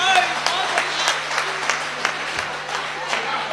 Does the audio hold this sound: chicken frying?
no